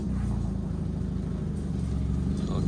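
A 1994 Mazda Miata NA with front-end damage idles and creeps slowly into a tight home garage, its engine giving a steady low rumble at close range with a slight rise near the end.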